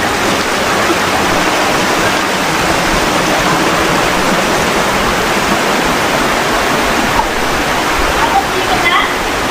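A waterfall at a limestone site in Sagada roars as a steady, loud, dense wash of falling water that fills the whole stretch without letting up.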